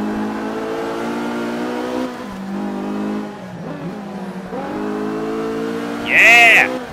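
A car engine in the racing video game Forza 5 revs and shifts repeatedly, its tone climbing and dropping in steps under a player talking.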